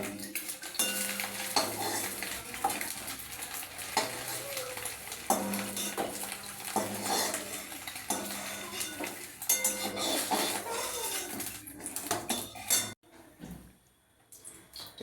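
A spatula scrapes and clinks against a pan as fried eggs, browned for an egg, potato and tomato curry, are lifted into a bowl, with repeated metallic taps and a faint sizzle before the sound drops away near the end.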